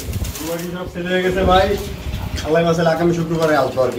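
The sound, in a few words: doves cooing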